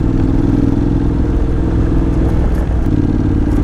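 Honda NC750X motorcycle ridden along a rough dirt road, its engine droning steadily and loud throughout with continuous rumble and wind noise, no talking.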